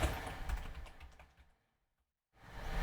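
Quick keystrokes typed on a computer keyboard while entering credentials into an Arduino secrets file, a busy close patter that stops into silence, then resumes.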